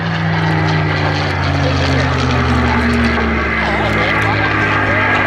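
A propeller aircraft flies a display at the 2015 Southport Airshow, its loud, sustained engine drone filling the air, with the pitch slowly shifting as it passes.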